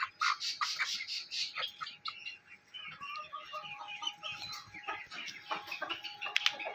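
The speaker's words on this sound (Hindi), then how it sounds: "ये मुर्गा है, बड़ा मुर्गा," Aseel cross chickens on a hobby farm, with a big rooster kept apart, give repeated clucks and short calls, near and fairly loud, with chatter from several birds overlapping throughout.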